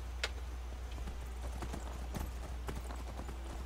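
Horse hooves clip-clop in the Skyrim video game, a quick, irregular gallop of close, soft knocks over a low steady background hum.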